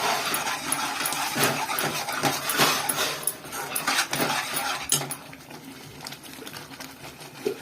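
A chili masala curry with bajji chilies is stirred in a pan, giving repeated scraping and metallic clinks of a spoon against the vessel, fairly close, busier at first and then thinning out.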